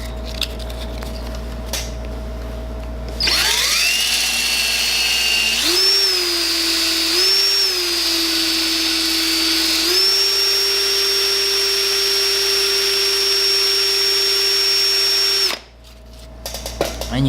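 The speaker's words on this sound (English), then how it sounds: "put this inside my drill." A drill spins a wooden ring made from a skateboard, starting up into a loud steady whine that shifts pitch a few times as the load changes, then stops near the end.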